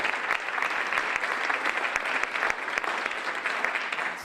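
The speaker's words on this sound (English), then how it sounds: "Round of applause." Steady, dense applause from an audience at a magic stage competition, many hands clapping continuously and fairly close for the whole stretch, with no voices over it.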